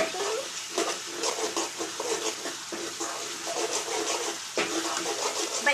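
Masala for urad dal curry fries in oil as it is stirred in a pan, a steady close hiss and sizzle with repeated scraping sweeps of the spoon.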